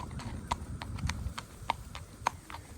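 A six-year-old quarter horse gelding walks with a crisp clip-clop of hooves, hitting in an irregular rhythm. The steps are close and fairly quiet over low background noise.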